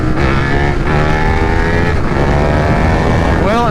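A 2022 KTM 1290 Super Duke R motorcycle accelerates hard in 2nd gear, its engine roaring loud and close over heavy wind rush, the pitch climbing steadily and rising again near the end.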